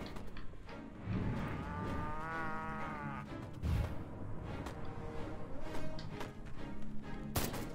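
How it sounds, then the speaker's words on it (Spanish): A cow in Destroy All Humans gives a long, loud drawn-out moo, with heavy thuds and crashing game sounds around it and more sharp bangs near the end. "Una vaca, necesito una vaca."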